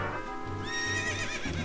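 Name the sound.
horse neighing in video game Zelda Ocarina of Time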